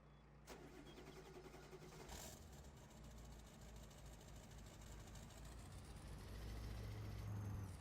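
A truck engine in Farming Simulator 22 runs steadily and loud throughout, a low continuous rumble that swells slightly toward the end, with no talking.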